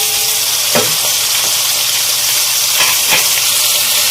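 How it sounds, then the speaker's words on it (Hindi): Loud, dense sizzling and crackling of beef frying with onions in a hot pan, with a few stirring scrapes, close and continuous. "इस गोश्त को भी हम इस प्याज के साथ फ्राई करेंगे"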